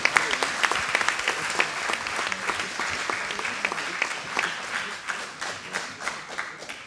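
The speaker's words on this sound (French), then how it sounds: "Et on peut applaudir cette présentation." Steady applause from an audience at a Collège de France colloquium, dense clapping that holds for several seconds with a few sharper claps standing out, no voices over it.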